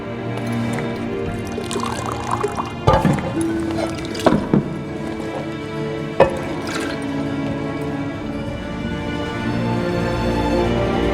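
Wine pours into a glass in The Witcher 3, a gurgling liquid stream with a few louder clinks and splashes among the drips, set against a steady background hum, loud and close.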